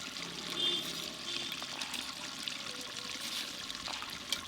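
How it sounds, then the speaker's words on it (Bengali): Saffron milk and rose water mixture poured into chicken dum biryani at home, a soft steady trickle of liquid running throughout, close and fairly quiet. "এই যে রগনটা তুলে রেখেছিলাম এবার এটাতে দিয়ে দেব, একসঙ্গে ভালো করে মিশিয়ে নেব।"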